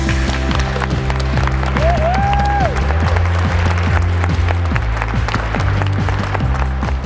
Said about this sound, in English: So we do an applause to them